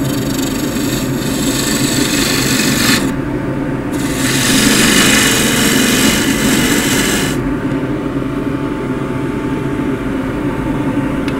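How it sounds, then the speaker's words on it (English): A bowl gouge cuts redgum wood spinning on a lathe, a loud, continuous rough shaving hiss with a low motor hum underneath, briefly thinning twice as the tool lifts. "Do this with the bowl gouge."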